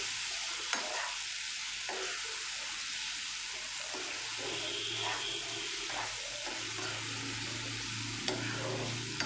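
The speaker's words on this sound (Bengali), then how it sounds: "এটাকে কিন্তু সুন্দর করে একটু ফ্রাই করে নিচ্ছি মিডিয়াম ফ্লেমে।" Prawn masala frying in mustard oil over a medium gas flame gives a steady close sizzle and bubbling, with occasional stirring scrapes throughout.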